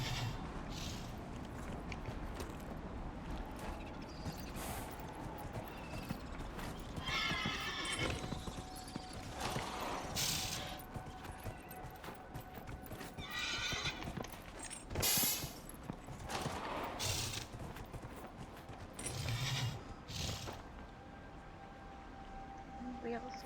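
Hooves clip-clop steadily with an occasional horse whinny, set against a busy Dragon Age: Inquisition soundscape of music and effects in the Frostback Basin.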